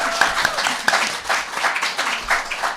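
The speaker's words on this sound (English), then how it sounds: "Can I have another round of applause for the poets who performed" Audience applause for poets at a Southern California poetry festival, a steady patter of many hands clapping with a few sharper individual claps, moderately close and filling the room without voices.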